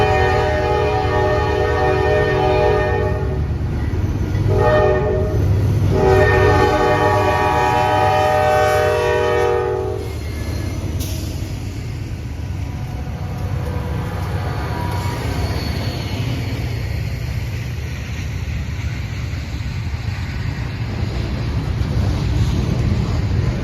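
A freight train hauled by an XCSX C40-8 and two SD40-2 locomotives sounds a loud, sustained horn in several blasts over the rumble of the engines, then the horn stops and the heavy rolling noise carries on alone.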